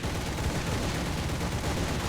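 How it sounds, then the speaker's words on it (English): Fw 190 A-1 fighter's wing cannons firing in War Thunder, a steady dense burst of rapid automatic fire with low booming thuds running continuously for about two seconds, no talk. "I should not have fired from this far out with these cannons."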